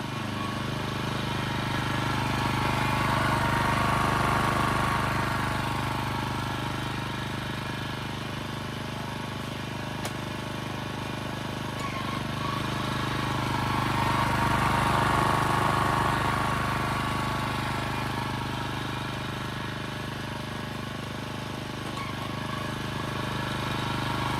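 Honda HR214 self-propelled lawn mower running steadily nearby in first speed, a constant droning hum that swells slightly and eases back over time.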